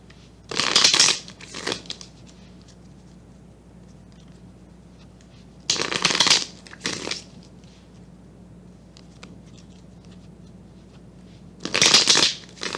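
Tarot cards being shuffled in three short, crisp riffling bursts, close and fairly loud, separated by several seconds of near silence with a faint low hum, no talk.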